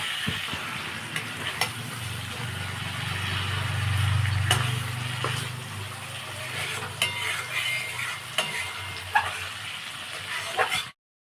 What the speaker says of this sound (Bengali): সিদ্ধ আলুগুলো কষা কষাচ্ছি